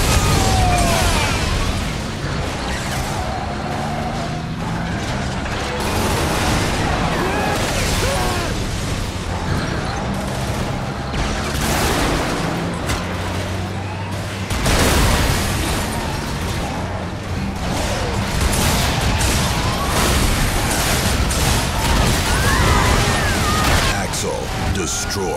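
Vehicles blowing up in the Twisted Metal PS3 car combat game, a long stretch of repeated loud blasts, bursts and gunfire crackle over constant engine and battle noise, with a game announcer's voice cutting in.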